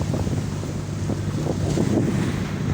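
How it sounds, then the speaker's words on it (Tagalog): Steady roaring wind buffeting the microphone over a low rumble of whitecapped open sea, continuous and loud, with no one talking. "Medyo malakas ang hangin."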